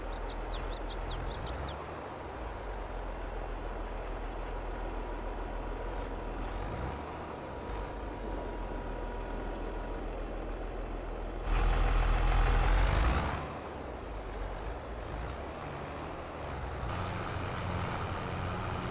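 A tractor-trailer truck arriving on a farm in Farming Simulator 22 during bale collection. A steady engine rumble plays throughout, with brief reversing beeps near the start and a loud hiss like an air brake midway, plus faint birdsong.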